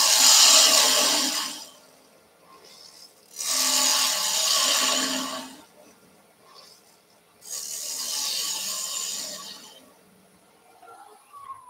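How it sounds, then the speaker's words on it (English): A woodturning gouge skims across a wooden owl blank spinning on a lathe, giving three long, loud rasping cuts separated by short quiet pauses. "So skim down with that gouge."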